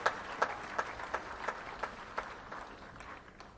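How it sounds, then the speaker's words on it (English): A congregation at a year-end prayer gathering gives a rhythmic hand clap, evenly spaced sharp claps roughly three per second, moderately close and fairly quiet with no talking over them. "may we give a hand clap to our God for this great peace God has given us"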